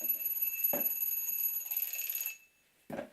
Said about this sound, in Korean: 알람이 울리네.